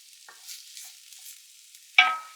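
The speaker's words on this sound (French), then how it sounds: "Vous voyez, les échalotes commencent à cuire. Et les oignons aussi." Shallots and onions cook in a cast-iron pot, stirred with a wooden spoon; a faint hiss with light scraping ends in a sharper, louder stir near the end, with no talking.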